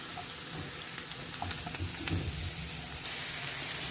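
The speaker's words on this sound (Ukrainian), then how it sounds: "Добавила морку ну, і тепер обсмажу до полуготовності." Steady sizzling of vegetables, with carrot, frying in a hot pan, a constant hiss with small crackles, close by and without talk.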